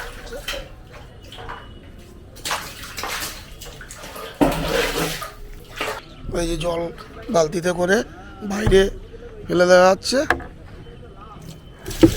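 Water splashing and pouring as a household water tank is rinsed out after scrubbing, with intermittent bursts of gushing and sloshing inside the tank, close and fairly loud, while a person talks throughout.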